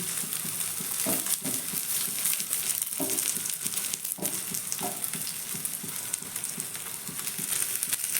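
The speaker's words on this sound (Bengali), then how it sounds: "আবারও আমি একবার উল্টে দিচ্ছি এইভাবে আমি ভেজে নিচ্ছি" Stuffed ash gourd leaf fritters with spiced filling fry in hot oil in a pan, a steady close sizzle with occasional sharper crackles and bursts as they are flipped, no talking.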